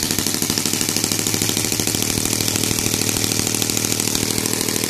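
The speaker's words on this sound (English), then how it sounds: "it revs up to 3000 RPMs and it's gonna stay there" A Saito R200 radial gasoline model aircraft engine with CH ignition runs at a high, steady 3000 RPM with a buzzing, rattling drone that holds constant throughout, close and loud.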